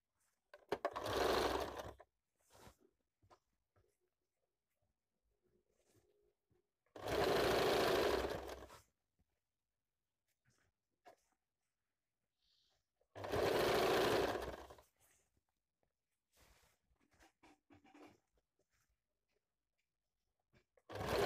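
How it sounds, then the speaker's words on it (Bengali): An electric sewing machine stitching pleated fabric for a semi-Patiala salwar runs in three loud, steady bursts of about two seconds each, separated by quiet pauses with faint handling clicks. "এবার দ্বিতীয় পার্টটাও সেম ভাবে সেলাই করে নেব।"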